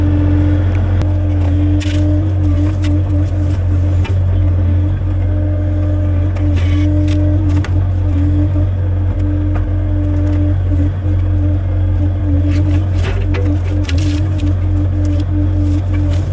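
A Kubota KX040 mini excavator runs loud and close beside a creek, its engine holding a steady drone while the hydraulics work under load, with faint creaks and clunks over the constant hum.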